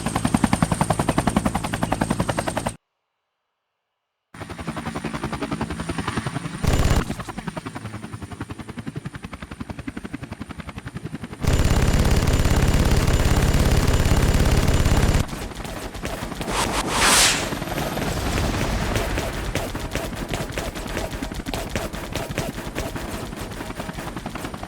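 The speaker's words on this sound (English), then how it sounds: "Enemy helicopters detected." Enemy helicopters and gunfire in the Vietnam-era air combat game Air Conflicts: Vietnam: a continuous rotor drone with bursts of rapid machine-gun fire, a brief dropout, then a louder stretch of dense firing and engine roar.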